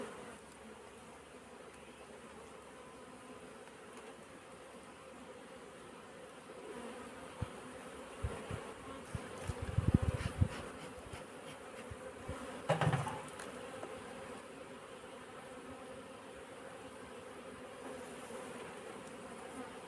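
Honeybees hum steadily around a brood frame pulled from a hive during a varroa treatment inspection, a dense continuous close buzz with a few louder swells and handling knocks.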